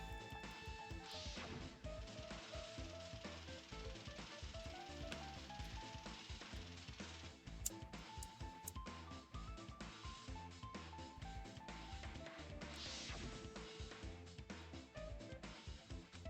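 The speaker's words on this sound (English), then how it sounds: "Why did they sound like they were shattering like glass?" Plastic bottles shatter and crash like glass amid a fire, a dense run of smashing impacts and crackling debris, faint and continuous throughout.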